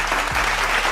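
Hand clapping rings out during a sports talk show, a quick burst of applause-like claps, fairly loud and close, with no talking over it.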